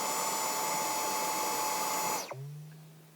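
Running in normal mode, a Dyson DigitalSlim Fluffy cordless stick vacuum gives off a steady high whir before it switches off, the motor pitch sliding quickly down into a low fading hum.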